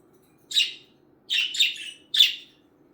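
A pet budgie gives three bright chirping bursts, one short and two longer warbling phrases, close and clear over a quiet low background hum.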